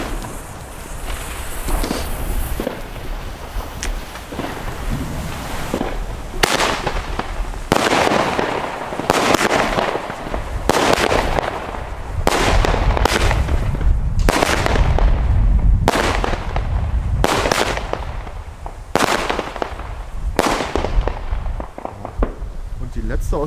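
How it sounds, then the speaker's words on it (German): Lesli Three Musketeers firework battery, 3x9 shots, firing small breaking rockets: a steady run of loud, sharp bangs and crackling bursts one after another for about twenty seconds, heard from close by outdoors. "Drei kleine Zerlegerraketen."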